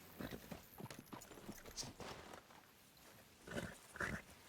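Horse hooves clip-clopping in the video game Red Dead Redemption 2, a quick uneven run of hoofbeats at moderate distance with some rustling, fairly quiet and with no speech over it.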